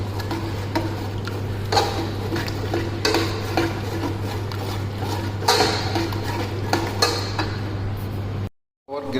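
Potato, carrot and other vegetables are stirred into chicken sausage curry gravy in a pot, with a steady scraping and clatter of spoon against metal over a constant hum, then a sudden drop near the end.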